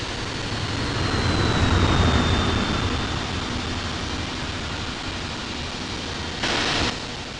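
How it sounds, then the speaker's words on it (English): Emirates Airbus A380 taking off from runway 27 left at London Heathrow: a steady, broad jet roar with a faint descending whine, sustained and fairly distant, with no one speaking. "Emirates 380 Super is taking off runway 27 left"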